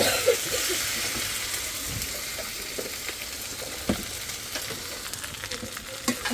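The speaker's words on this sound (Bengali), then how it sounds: "আগে ভেন্ডিটা রান্না করে দিলাম" Okra frying in a pan with salt, a steady soft sizzle broken by occasional stirring clicks and pops, heard alone and close.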